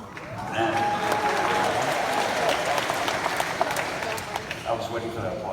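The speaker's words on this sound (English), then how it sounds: "I was waiting for that applause." An audience at a talk at the Chautauqua Institution breaks into sustained applause, a full, even wash of clapping that swells in quickly and holds steady throughout, with a few louder claps standing out near the end.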